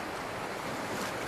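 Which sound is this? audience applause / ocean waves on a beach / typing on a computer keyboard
ocean waves on a beach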